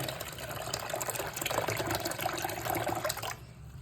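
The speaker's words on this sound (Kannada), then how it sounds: "ಅಕ್ಕಿ ತರಿನ ಸ್ವಲ್ಪ ತಣ್ಣೀರು, ಮಾಮೂಲಿ ನೀರು ಹಾಕಿ ತೊಳ್ಕೊಳ್ಳೋಣ" Running water poured over broken rice in a cooking vessel, a steady close gush and splash that cuts off near the end, no talking.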